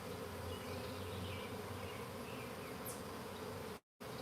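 Honey bees buzzing around a swarming hive, a dense continuous drone of many wings close by, steady and loud throughout before cutting out abruptly near the end.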